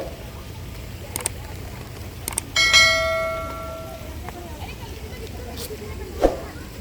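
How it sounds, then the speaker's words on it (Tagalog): A bell struck once at a Chinese temple, a bright metallic clang that rings out and decays over a second or two, with soft clicks, distant voices and light background murmur around it. "Sila yata yung nag-bell-bell."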